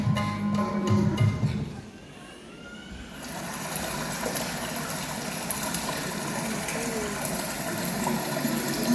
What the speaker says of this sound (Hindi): कलकल करती यमुना की लहरों की आवाज, कितनी सुरीली है इनकी तार।